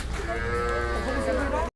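Cattle mooing at a busy Qurbani cattle market in Hozrotpur, one long sustained low call holding steady close by over a brief moment of crowd murmur.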